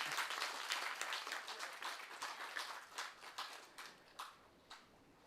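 Audience applause at a seminar on cyber crime against women as a memento is presented, a dense patter of clapping with individual claps standing out and fading toward the end.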